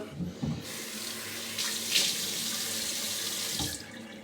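Water runs from a sink tap in a steady stream, splashing and sputtering as hands cup it to wet a face nearby.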